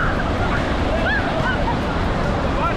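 Ocean surf washing up onto a beach, a steady broad roar of waves with wind buffeting the microphone, while voices chatter faintly over it.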